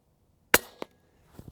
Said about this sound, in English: these are gonna be my first shots in the short configuration